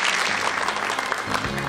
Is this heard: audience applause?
yes